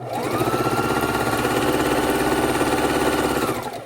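A sewing machine chain stitches quilt patches together in one continuous run, its motor humming with a rapid, even needle rhythm that starts, holds steady for several seconds, then winds down at the end.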